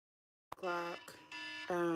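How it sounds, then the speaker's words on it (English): An electronic alarm buzzes in harmonic bursts, three tones with short gaps in a quiet room, close and moderately loud, heard alone. "All the alarms going off and stuff."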